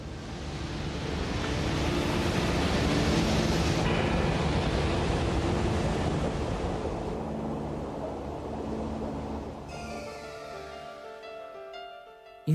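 Broad rushing ocean surf, a steady wash that swells and slowly fades, heard alone with no voices.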